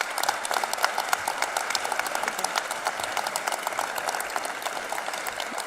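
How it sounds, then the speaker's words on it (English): Audience at a college president's installation ceremony claps in a steady, dense patter of many hands, moderately loud and even throughout, with no speech over it. "All right, you clapped too soon."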